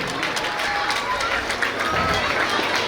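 Audience applause for prize winners at a Ganapati festival, steady continuous clapping that holds across the moment with light crowd noise.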